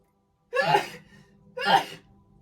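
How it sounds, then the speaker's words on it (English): Two sharp, close sneeze-like bursts about a second apart, each followed by a quiet trailing breath. "I think I'm going to sneeze"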